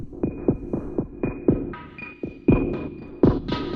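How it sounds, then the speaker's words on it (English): Electronic drum line resembling a marching band, run through a sweeping low-pass filter in the AUM app, rapid pulsing hits and rolls whose brightness opens and rises across a few seconds, loud and close with no talking. "Who doesn't love a great filter sweep like that?"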